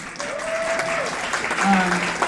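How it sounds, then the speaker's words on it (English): Audience claps at a Sundresses and Seersuckers event while a speaker keeps talking over it, the applause moderate and steady beneath the voice. "y'all clap it up for that"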